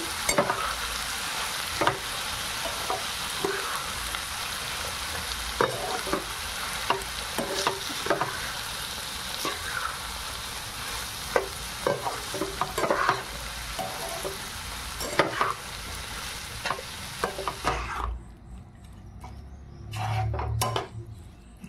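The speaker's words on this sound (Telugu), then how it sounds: "ఇప్పుడు ఒకసారి కలుపుకోవాలండి" Ridge gourd dal curry stirred in a pot, with continuous close sizzling and a run of spoon scrapes and knocks against the pot that stop near the end, leaving a quieter stretch.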